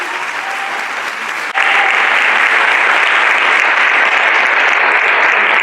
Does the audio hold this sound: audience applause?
yes